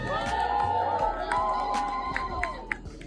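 A crowd at a hip hop 50th anniversary event cheers for New York City Mayor Eric Adams, a steady roar of voices with scattered shouts rising above it, with speech audible over the crowd.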